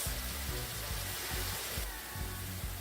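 Seasonings saute in a hot pan, giving off a constant loud hiss with a low rhythmic rumble beneath it and no voices.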